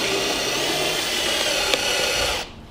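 Power tool driving a screw into a wooden plank, a loud continuous whirring drone held steadily for over two seconds, then cutting off abruptly.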